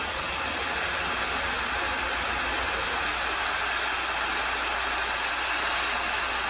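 A torch roars in a steady, broadband hiss as it heats the crankcase of a Husqvarna 372 chainsaw during crank bearing work, with the flame's noise constant and close for the whole stretch.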